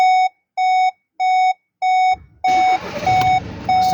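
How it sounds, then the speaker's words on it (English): A 2017 Volkswagen Golf 2.0 TDI GTD DSG sounds its door-open warning chime as a series of clear, evenly spaced beeps, and the diesel engine starts midway with the beeps continuing over its rumble. "Saying the doors open, let me shut the doors."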